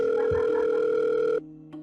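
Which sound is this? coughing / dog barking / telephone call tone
telephone call tone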